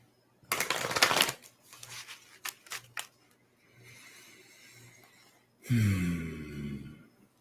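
A deck of cards is shuffled before one is pulled: a dense riffling burst, then a few quick snaps and soft card slides, ending in a loud rustling flutter.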